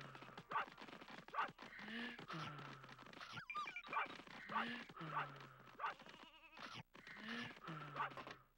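Cartoonish dog-like barks and bleating animal calls repeat in the N64 game Space Station Silicon Valley, close and fairly loud, with people talking over them.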